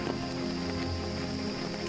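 Steady rain falling during the rainy season, a dense continuous patter close by with no voices.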